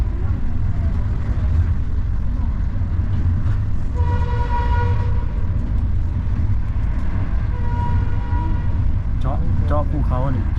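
A passenger train bound for Nateuy station in Luang Namtha, Laos, rumbles steadily along its rails, a continuous low roar with rhythmic clatter, while a voice speaks over it and faint tones drift by.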